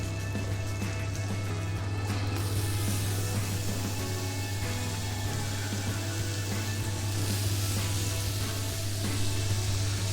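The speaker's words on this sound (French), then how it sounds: "On va venir y plonger nos bananes." Bananas fry in a pan of melted butter and sugar, giving a steady, close, even sizzle with soft bubbling and a low hum under it, with no talking.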